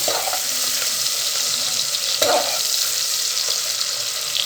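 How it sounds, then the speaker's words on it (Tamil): Sliced onions sautéing with cardamom for mutton biryani, a loud continuous sizzle throughout with one brief stirring clatter in the middle. "இப்போ அரிஞ்சு வச்சுருக்க இந்த வெங்காயத்தை இதோட சேர்த்துக்கலாம் சேர்த்துட்டு இது ஓரளவுக்கு நேரமாக ஆறு வரைக்கும் வதக்கி எடுக்கலாம்"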